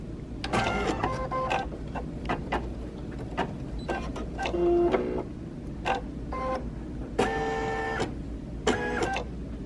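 An embroidery machine stitches a placement line for fusible fleece on a Christmas advent calendar project, giving bursts of rapid mechanical whirring and clattering with short pauses between runs, close and steady.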